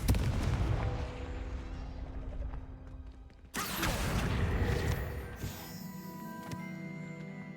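Spell blasts and explosive booms in the Hogwarts Legacy video game: a loud rumbling barrage that drops away, then a sharp burst around the midpoint followed by sustained crackling impacts and ringing magical tones, with no talking.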